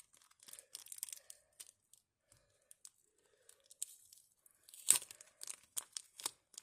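Crinkly tearing and crumpling of a Kinder Surprise egg's foil and plastic capsule being unwrapped by hand, close and intermittent in short bursts, with a louder rip near the middle and quiet gaps between.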